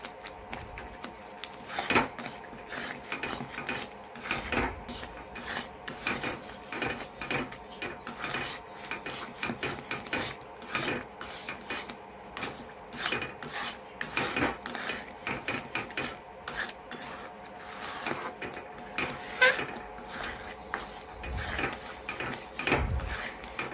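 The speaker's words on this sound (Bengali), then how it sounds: "এখন অনবরত নাড়াচাড়া করতে হবে," A spoon scrapes and stirs a thickening homemade sweet mixture in a pan, making close, continuous rhythmic scraping and tapping strokes throughout, with no speech.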